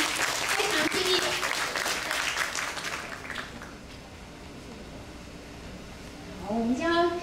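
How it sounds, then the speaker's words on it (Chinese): Audience applause for a children's stage performance, a sustained dense clatter of many hands over the first few seconds that fades out, with a voice speaking near the end. "需要大家给予热烈的掌声"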